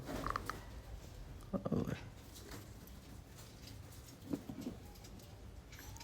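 Two pigeons coo in low, rolling bursts, a couple of distinct calls at moderate distance, with a voice talking quietly in the background.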